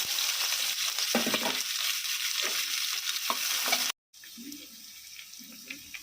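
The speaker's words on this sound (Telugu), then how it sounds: "పప్పులు వేగిన తర్వాత ఆనియన్స్ కూడా వేసుకుని వేయించుకోవాలి" Onions and lentils fry in hot oil for a snake gourd curry, making a loud, bright hissing sizzle with occasional stirring clatter. After a brief silence the frying continues more quietly.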